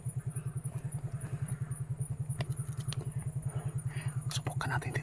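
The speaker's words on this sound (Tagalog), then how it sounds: "May mga motor sa baba guys." Motorcycles below idle with a steady, rapid low putter, fairly faint and distant, with a few scattered clicks and knocks toward the end.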